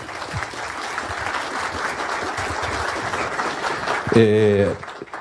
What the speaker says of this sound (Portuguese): pedir uma salva de palmas aos nossos palestrantes e mediadores.